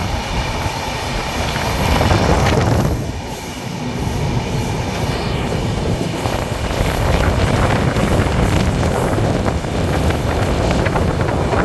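A Humsafar Express train runs at speed past Anand Vihar in Delhi, with continuous loud rumble and clatter of wheels on rails, gusts of wind noise, and a brief dip as it passes a structure before the roar resumes.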